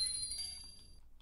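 A livestream donation alert gives off a short, faint chime, a bright ringing ding that lasts about a second and then fades out.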